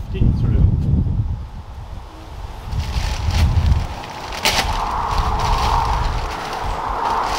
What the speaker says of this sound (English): It's a bit windy, so some of this is going to blow everywhere.